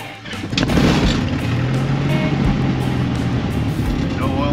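A Mooney aircraft's piston engine starting up, a loud steady rumbling drone that rises in the first second and then runs continuously, with a voice talking over it.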